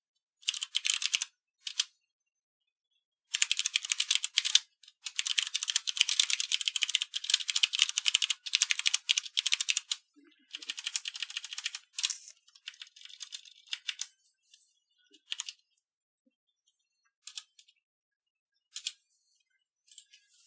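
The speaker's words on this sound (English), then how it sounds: "Sorry for the typing, I know it's probably really loud and obnoxious." Clattering keystrokes on a computer keyboard during an online Magic: The Gathering game, close and loud, in dense bursts that thin into sparse taps and scattered single clicks with gaps of silence.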